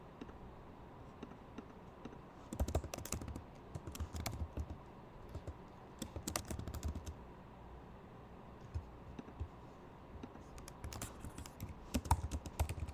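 Typing on a computer keyboard, with bursts of quick key clicks separated by pauses, fairly close and moderately loud against a steady low room hum, no talking.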